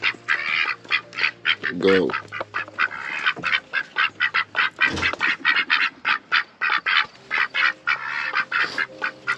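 A group of ducks at a coop at breakfast time quack and squawk loudly and continuously, close by, with a person speaking briefly among them.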